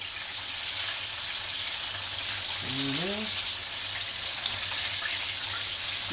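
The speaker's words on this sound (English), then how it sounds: "I even enjoy the sound of the chicken frying." Chicken wings frying in oil make a steady, moderately loud hiss and crackle throughout, with a brief voice heard once over the sizzle.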